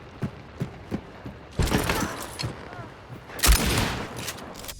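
A shotgun fires at long range in Hunt: Showdown, with loud blasts and bursts of gunfire among lighter clicks and mechanical clatter.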